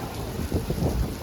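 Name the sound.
rain and thunder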